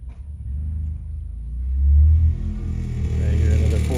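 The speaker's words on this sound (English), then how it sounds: "I hear another four-wheeler" Low rumbling engine of a four-wheeler ATV driving at a shooting range, a steady deep drone that swells a little as it revs, heard alone without talk.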